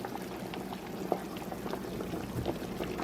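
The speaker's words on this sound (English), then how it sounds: "It's boiling" Broth for stuffed peppers boiling in a pot, a steady close bubbling and popping that continues throughout at a low, even level without talk.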